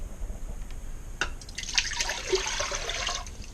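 Water poured into an Instant Pot electric pressure cooker, a close splashing, trickling pour that starts about a third of the way in and runs steadily to the end.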